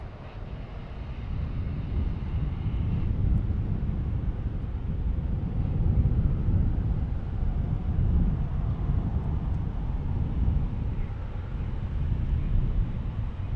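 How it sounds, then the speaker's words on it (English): A Qatar Airways Airbus A350-1000 departing an airport, a steady low rumble of jet engines heard from afar that swells gently and then holds, with a faint windy hiss and no talking. "There's our A350 1000 from Qatar Airlines headed back to Doha."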